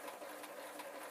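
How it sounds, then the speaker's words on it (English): Sewing machine stitching leatherette around the curved toe of a trainer, a quiet, rapid steady whirring with light rhythmic needle clatter throughout, no voices. "I'm not sewing straight, I'm sewing a bit"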